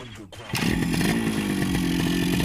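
A Yamaha RX motorcycle engine roars to life after a brief quiet moment, then runs loud and steady close by with a deep, throaty drone.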